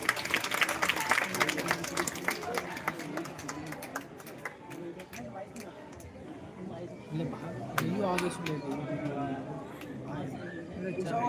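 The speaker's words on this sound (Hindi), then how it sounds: "जोरदार तालियों से स्वागत किया जाए" An audience at an education summit performance applauds to welcome a performer, clapping that starts strong and then softens while voices, chatter and stage movement mix in beneath it.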